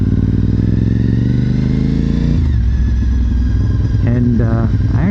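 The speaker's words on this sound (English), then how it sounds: "I thought I'd take a little bit of a ride just to remind me what the bike felt like before I switch it over." Honda RC51 V-twin motorcycle engine heard while riding, loud and close with a deep pulsing drone, revs dropping at a shift then climbing again, with wind noise.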